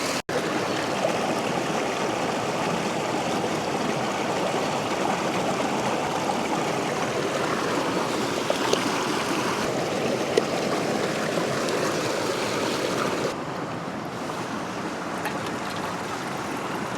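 Mountain stream flowing through Analong Valley, a steady close rushing and babbling of water that continues unbroken throughout, dipping slightly in loudness toward the end.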